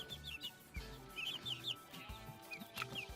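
Chicks cheep in a coop at night, with repeated high thin peeping calls scattered over a low background hum and a few soft knocks.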